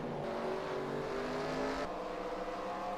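Race cars on the Bristol oval drone past in a continuous engine roar, one pitch fading as another car takes over, steady and moderately loud without speech.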